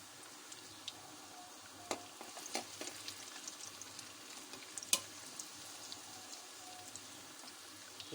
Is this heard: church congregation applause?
no